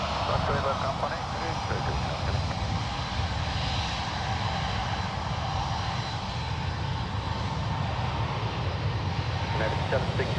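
A jet airliner takes off from runway 1 Left at San Francisco International Airport, a loud, sustained engine roar that holds steady throughout while air traffic control radio talk runs over it.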